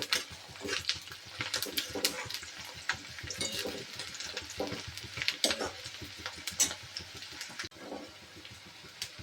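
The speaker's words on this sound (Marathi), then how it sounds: "कांदे छान परतून घ्यायचे." Onions sauté in a hot pan for a mung bean vadi curry, a dense, steady sizzle and crackle with scraping stirs, close and loud throughout.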